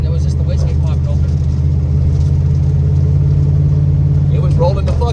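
A turbocharged 383 V8 gives a loud, close, steady low engine rumble that drones without pause through the whole stretch, with voices talking over it.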